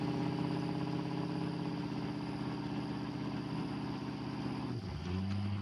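A twin-turbo 6.0 race truck engine in Farming Simulator 22 drones steadily at a loud idle-like rumble, then dips briefly and settles into a lower tone near the end.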